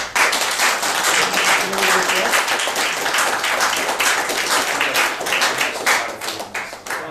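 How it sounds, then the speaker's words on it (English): An audience at a talk gives a lively round of applause, with dense clapping and individual sharp claps sustained for several seconds before tapering near the end. "give Nick a round of applause"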